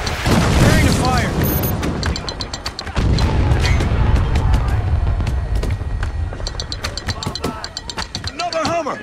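Artillery firing on Hummer vehicles in the military shooter Spec Ops: The Line. Heavy booms and blasts land amid crackling debris, and soldiers' voices call out over the barrage.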